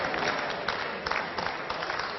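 Steady applause from a pool tournament crowd at the World Cup of Pool, England B versus Indonesia, after a 2-9 combination shot; dense, continuous clapping throughout, fairly close and sustained.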